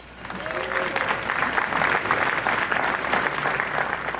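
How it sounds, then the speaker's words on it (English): A crowd applauds steadily, dense clapping that swells in quickly and holds at an even, fairly loud level throughout. "So a big round of applause for tonight's sponsors."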